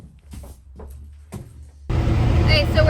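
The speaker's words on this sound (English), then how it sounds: "There's an exhaust leak where the muffler is, which is like right in the middle of the van" Campervan with an exhaust leak at the muffler, mid-van, cutting in as a loud rough droning rumble after a quiet stretch with scattered voices.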